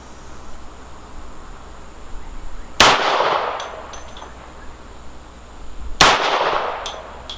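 A Smith & Wesson 52-2 pistol fires .38 Special wadcutters at a range, two sharp, loud shots about three seconds apart, each with a quick ringing decay, over a steady hiss of background noise.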